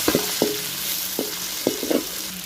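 Sliced ripe tomatoes sautéing with softened onions and salt in a pan for carrot rice, with a steady close sizzle broken by several sharp spatula scrapes and stirs spread across the stretch; no one speaks.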